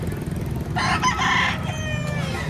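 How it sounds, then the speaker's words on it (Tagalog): A rooster at a poultry sale in Lipa, Batangas crows once, close and loud, its bright call lasting about a second over low background murmur and clucking. "Gandang mga manok nito."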